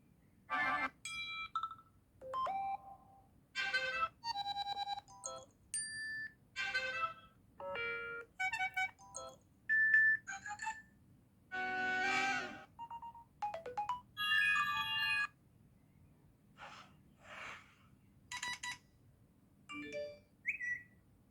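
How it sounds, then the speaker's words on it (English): iPhone Classical reminder alert tone, a series of short bright melodic chimes playing in separate bursts with brief pauses between, clear and alone with no voices. "reminder alerts,"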